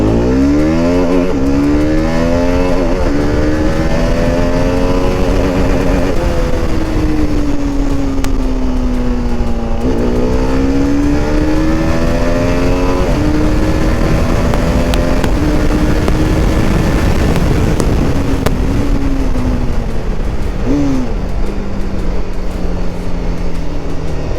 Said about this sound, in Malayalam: നമുക്ക് സ്പോർട്സിൽ തന്നെ ഇട്ടിട്ട് നമുക്ക് വണ്ടി സ്റ്റാർട്ട് ചെയ്യാം.